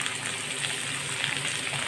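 Potatoes, radish and carrot frying in a pan, giving a steady, close sizzle with soft crackling that holds evenly throughout, with no talking.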